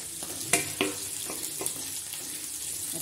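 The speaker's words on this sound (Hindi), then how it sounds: "पनीर ऐड कर देंगे," Paneer cubes frying in a pan for chilli paneer, giving a steady close sizzle with a few sharp stirring clatters early on.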